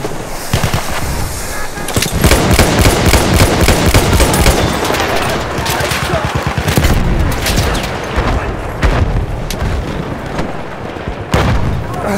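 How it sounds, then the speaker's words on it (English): Grenade blast and heavy gunfire in the World War I shooter Battlefield 1, loud rapid bursts of rifle and machine-gun shots with booming explosions packed close together, continuous and chaotic for the whole stretch. "Throw the grenade!"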